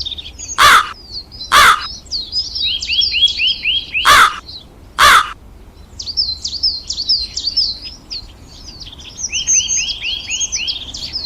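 Crows caw in repeated, raspy bursts, loud and close, in an animated moral story, broken by a few sharp, loud knock-like hits in the first half before the cawing carries on alone.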